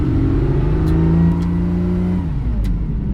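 Ferrari 250GT PF Coupe engine accelerating on a road, heard up close and loud: a steady, deep, multi-toned drone that rises in pitch, then drops briefly as it shifts before carrying on, with no talk.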